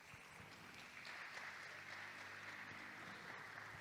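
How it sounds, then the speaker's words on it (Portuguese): A church congregation applauds steadily for two young ministers, a dense, even wash of clapping from many hands filling the room throughout. "Pedir que vocês aplaudam o Senhor pela vida deles."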